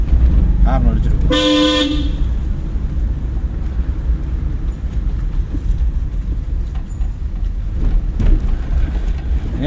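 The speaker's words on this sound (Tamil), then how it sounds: "ஹார்ன் அடிச்சிருக்கும்." Car horn during a driving lesson on a narrow road, one short loud toot near the start over steady engine and traffic rumble, with voices talking faintly nearby.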